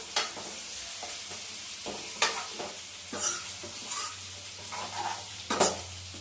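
Boiled eggs fry in hot oil for a dried fish and egg curry, with a continuous sizzle broken by repeated clinks and scrapes of a spoon stirring against the pan, fairly close and without voices.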